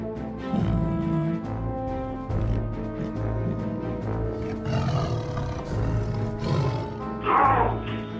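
A lioness and a tiger fight, with loud, sustained overlapping roars and growls close by, rising into harsher snarling bursts toward the end.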